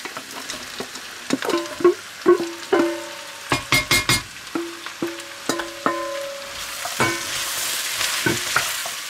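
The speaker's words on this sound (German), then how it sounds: "Das lassen wir noch jetzt noch einen kleinen Augenblick so vor sich hinschmurgeln" Mushrooms, carrots and garlic braise in a pot for a mushroom, cabbage and carrot stew, giving a continuous soft sizzle broken by repeated scraping stirs and clear utensil knocks against the pot, close and fairly loud, with no talking.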